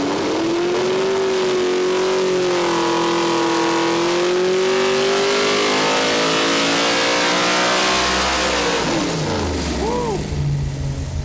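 A stroked big block V8 revs hard on a dyno, its roar climbing steadily toward about 7,500 rpm before dropping off, loud and close throughout.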